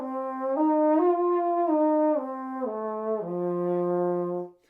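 A brass player slurring through a sequence of harmonics, stepping up and then back down in clean sustained tones, with one note overshot or skipped along the way. The phrase is close and alone and stops abruptly.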